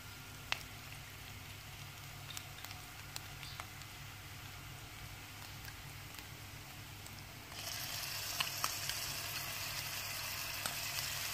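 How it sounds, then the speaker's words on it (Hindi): Ginger garlic paste fries with onions in a pan while making beef qeema paratha, a soft steady sizzle throughout that grows louder and brighter toward the end, with no voices. "अब हम इसमें अदरक और लहसुन का पेस्ट"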